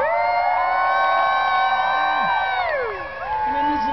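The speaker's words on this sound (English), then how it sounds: "And then the crowd went wild." Crowd cheering wildly at a British Invasion tribute concert on New Year's Eve, a loud sustained roar of shouts, whoops and high screams that dips briefly before surging again.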